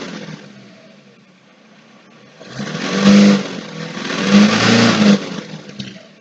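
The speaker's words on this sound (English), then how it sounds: "And Bob, if you could rev the engine, please." A diesel car engine idles quietly, then revs up twice with rising, throaty roars before settling back down, close by; the TDI engine has a boost problem.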